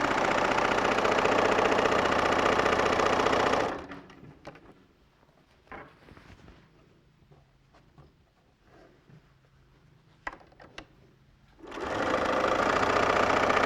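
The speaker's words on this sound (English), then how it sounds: "sew that section." A sewing machine stitches fabric in a fast, steady mechanical whir for several seconds, stops while quiet handling sounds and pin fiddling follow, then starts again at full speed.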